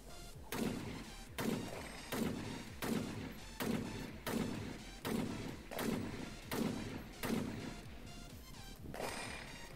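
Ten sharp pistol gunshots ring out one after another at a steady pace at a shooting competition stage, each with a short echoing tail, somewhat distant.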